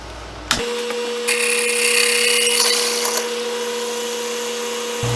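A drill bit on a wood lathe bores into a segmented pen blank, with a steady motor hum under a brighter grinding, whirring cut that rises for a couple of seconds and then settles back to the running motor.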